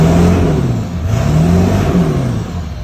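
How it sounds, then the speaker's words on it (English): A 2001 Ford F-350's 7.3L diesel engine revs loudly nearby, its pitch rising and falling with a whirring turbo tone over a deep rumble. "Turbo sounds good."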